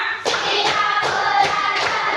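Children in a classroom clap their hands together as a group, giving about five sharp, evenly spaced claps that ring out clearly with no talking over them.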